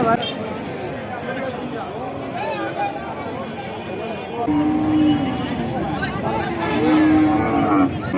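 Cattle at a busy livestock market in Jessore, Bangladesh, with a couple of drawn-out low moos rising above steady crowd chatter and voices nearby.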